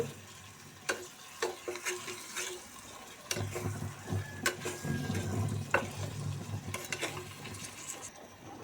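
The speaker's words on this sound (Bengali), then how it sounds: "এবার মাছগুলো ভালো করে নেড়ে চেড়ে মশলা মিশিয়ে নেব।" Fish pieces are turned through spice masala in a pan, with scraping spatula strokes and sharp clanks against the metal over a low sizzle, irregular and close.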